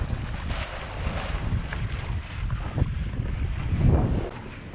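A sailboat glides under full sails in light wind of about five knots, with a steady broad rush of wind and water noise, close and continuous, with no talking.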